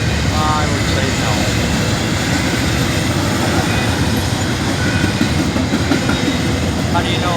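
Train rolling past a road crossing on Crissey Road in Holland, Ohio, a loud continuous rumble and roar of rail cars that holds steady throughout, with faint clatter mixed in.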